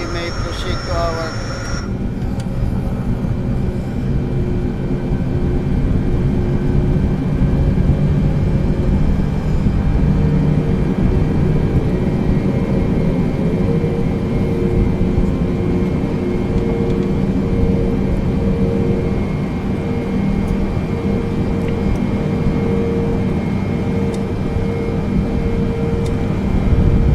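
A Boeing 747-800 airliner taxis toward runway 25, heard from inside the cabin as a steady, loud jet engine roar and low rumble that carries on without a break, with faint talk underneath.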